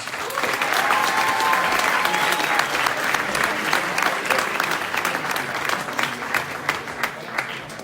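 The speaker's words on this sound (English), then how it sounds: "Big applause!" A large audience applauds steadily, dense clapping holding at full strength throughout, with faint cheers mixed in.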